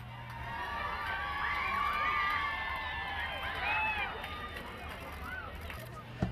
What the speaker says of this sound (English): When the royal limousine pulled up, the two special visitors were given a rousing welcome.